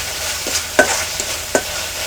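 Spices fry in oil for a pumpkin peel dish, giving a soft sizzle under a few quick, close stirring scrapes in a brief burst.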